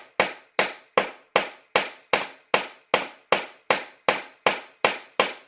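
A hammer strikes a metal piece held on a bench block anvil about thirteen times in an even, steady rhythm, and each sharp, loud ringing hit decays quickly.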